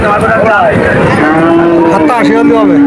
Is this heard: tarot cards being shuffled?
no